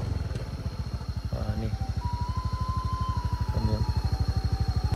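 Motorcycle engine idling at a highway rest area, a steady, close, rhythmic putter that holds throughout with faint background noise.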